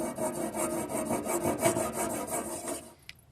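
Knife blade scrubbed on an Anystone sharpening stone in quick short strokes, a rapid rhythmic rasping, close and steady, ending abruptly with a small clink.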